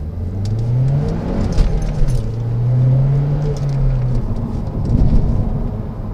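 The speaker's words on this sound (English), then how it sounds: "catbacks on this thing sound delicious" A Mazdaspeed3 fitted with a catback exhaust pulls through the gears from a stop, its engine note rising and falling in steady sweeps, loud and close with a deep exhaust drone throughout.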